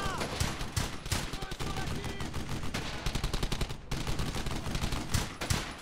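Rapid, dense gunfire from the Brothers In Arms: Hell's Highway video game, bursts of machine-gun and rifle shots crackling almost nonstop, loud and close, with a brief lull partway through.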